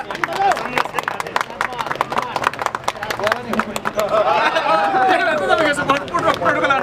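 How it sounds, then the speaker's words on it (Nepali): An audience claps together to welcome guests at a Lions Club ceremony in Panauti, with scattered claps over the first few seconds and crowd chatter and voices carrying on underneath. "कृपया ताली बजाएर भव्य स्वागत गरिदिनु"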